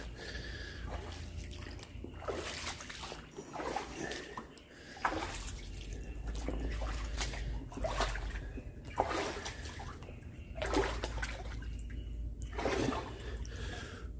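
Water splashes and sloshes in repeated bursts as boots are washed off in a puddle inside an abandoned factory, close and uneven, with quiet gaps between strokes.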